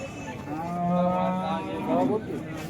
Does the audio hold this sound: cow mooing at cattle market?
yes